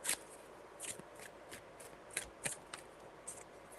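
Tarot cards being shuffled by hand, quiet soft riffles and slaps coming in short irregular bursts, close by and faint.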